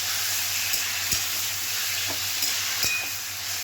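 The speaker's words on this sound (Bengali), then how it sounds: "আমি কচু পাতাটা হাত দিয়ে ভালো করে কষিয়ে নিয়েছি। ভালো করে একদম নেড়ে নেবো।" Taro leaves being stirred and sautéed in a hot pan, a dense, loud, continuous sizzle close up with scattered clicks and scrapes of a spatula, no talking.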